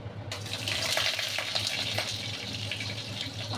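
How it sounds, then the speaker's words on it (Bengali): Pointed gourd (potol) hitting hot oil in a wok and frying with a steady, loud, close crackling sizzle that starts abruptly and continues throughout, with occasional stirring. "এবার পটলগুলো আস্তে আস্তে ওর মধ্যে ছেড়ে দেবো"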